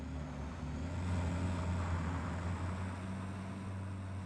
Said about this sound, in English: as soon as your vehicle was more in my camera range, it's like, oh, I could hear your engine